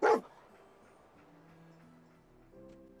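A single short, loud dog bark from the companion dog in the video game Fallout 4 opens the moment, followed by quiet game ambience and soft tonal music.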